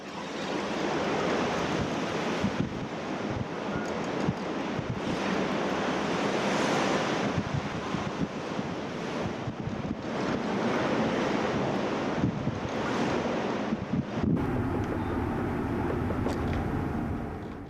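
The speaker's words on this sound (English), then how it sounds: "the wind and seas were definitely picking up" Strong wind and rough sea surf heard from a ship off the coast of Xiamen, a loud continuous roar with gusting buffets against the microphone and surging wave wash throughout, no speech.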